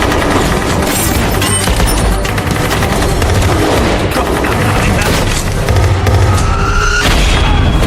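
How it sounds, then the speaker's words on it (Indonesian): A loud, continuous shootout from the action film Red 2, with dense rapid gunfire, bursts of automatic weapons and heavy booms overlapping without pause, a faint voice mixed underneath. "adu tembak pun terjadi"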